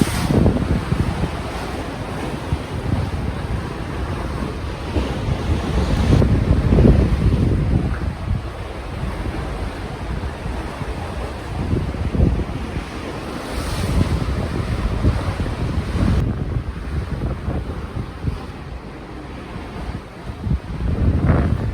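Sea waves in the Caribbean Sea surge and wash in slow swells on a cruise ship's open deck. Heavy wind buffets the microphone throughout and nearly masks the water.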